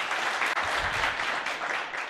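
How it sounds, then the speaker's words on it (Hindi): Seminar audience applause fills the room as a dense, steady wash of many hands clapping at once, loud and sustained throughout. "तालियां बजा दिया करो"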